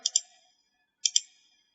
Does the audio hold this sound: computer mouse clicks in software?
yes